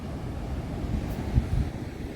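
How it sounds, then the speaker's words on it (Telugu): Ocean waves roll onto Puri's Golden Beach in a low, steady rumble with wind buffeting the microphone and one slightly stronger surge midway. "ఈ అలల శబ్దం అంటే నాకు చాలా ఇష్టం."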